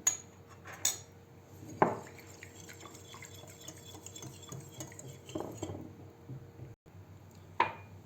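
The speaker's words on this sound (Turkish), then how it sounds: "Bir çay kaşığı da tuzumu atıp güzelce karıştırıyorum" A spoon stirs a mixture of yogurt, milk and salt in a bowl, with a few sharp clinks against the dish and soft scraping in between, close and fairly quiet, no talking.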